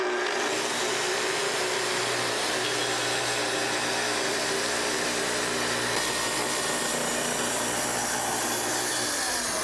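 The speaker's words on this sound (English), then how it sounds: "To make your cut, first start the saw, then plunge down to your depth setting, and advance into the workpiece slowly." A Festool TS track saw cuts a workpiece with a loud, steady, broadband roar that stays constant throughout, close up and with no voices.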